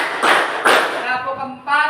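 A class claps in unison during the 'tepuk semangat' spirit-clap routine: two sharp, loud group claps close together, then a voice speaking.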